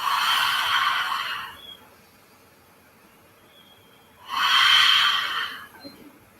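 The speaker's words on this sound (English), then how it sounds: "And just take a deep breath in on the table position." Two deep, airy breaths during a yoga session in table position, a long inhale then a pause of near silence before a long exhale, close and clear with no other sound.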